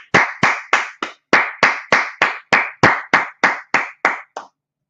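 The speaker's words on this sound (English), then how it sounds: "let's clap it up" Rhythmic clapping during a scripture and law class, about fourteen crisp, evenly spaced claps in a steady beat, close and loud, stopping abruptly with no talk over them.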